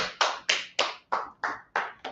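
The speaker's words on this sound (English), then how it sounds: "Clap it up, right?" Eight slow, evenly spaced claps in a class, each a sharp close hand strike with a short decay, forming a measured rhythmic clapping pattern with no talking.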